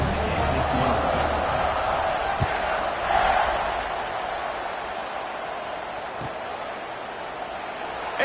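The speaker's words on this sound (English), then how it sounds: "this crowd now ready to get behind them" A football stadium crowd murmurs steadily before kickoff, a broad distant roar with faint scattered shouts and a slight swell partway through.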